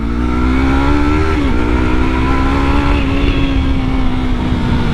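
A Yamaha R3 sport motorcycle held at wide open throttle gives a loud, steady, high-pitched engine drone that stays close and continuous, rising slightly in pitch, with no one speaking.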